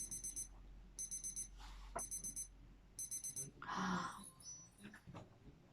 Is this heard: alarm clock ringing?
yes